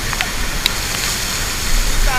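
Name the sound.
powerful waterfall, Hulugan Falls in Laguna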